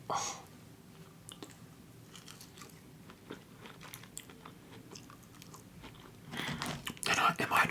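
Crunchy bites and steady chewing of Wendy's fast-food fries up close, soft and intimate at first, then louder crunches toward the end, with a voice talking between mouthfuls.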